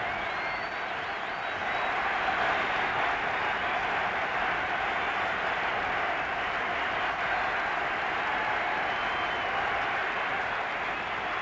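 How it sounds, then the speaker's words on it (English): A big 1977 football crowd at Windsor Park, Belfast, roars and applauds as England and Northern Ireland walk onto the pitch, a dense steady wall of cheering and clapping. "the crowd rapturous in their welcome"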